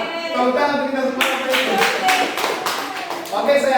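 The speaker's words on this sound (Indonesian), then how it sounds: "Tepuk tangan untuk kita semua." A group of teachers at a school workshop clapping hands together, a burst of brisk, moderately close clapping that starts suddenly after some speech and continues to the end.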